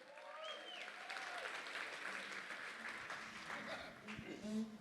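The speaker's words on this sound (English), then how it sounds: "Let's give him a round of applause." Indoor audience applause at a corporate event, steady clapping from a crowd throughout, with some cheering and voices mixed in.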